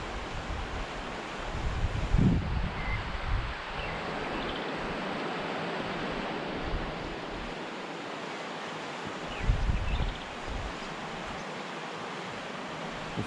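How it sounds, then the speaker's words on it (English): The Orange River in flood at the Augrabies valley viewpoints in November 2022 makes a steady, broad rushing roar, with brief low gusts of wind buffeting the microphone. "Let's take a minute to just enjoy the river."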